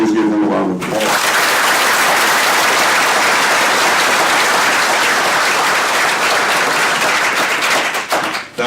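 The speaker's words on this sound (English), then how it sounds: "could we please give him a round of applause?" A crowd at a 2014 Fourth of July parade gives the grand marshal, Dr. Bodie, a loud, steady round of applause that swells after a brief opening and continues densely for about eight seconds.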